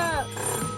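A converted rotary telephone's bell rings in a brief burst, set off by a radar alarm, loud and close, then a fading tail.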